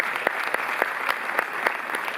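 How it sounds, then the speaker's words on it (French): An audience applauds at the opening of the 13th Cinémathèque festival in Paris, a brief even wash of crowd clapping with a few sharper claps, heard from within the hall. "Vous pouvez l'applaudir"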